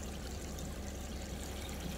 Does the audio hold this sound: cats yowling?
no